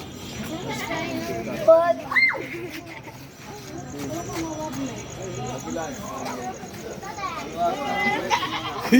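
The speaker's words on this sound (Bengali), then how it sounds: "এটা যে ধ্রুবর ছাগল" Goats bleat a few times amid a busy outdoor neighborhood scene on the eve of Eid al-Adha, with people talking and children's voices mixed in around them.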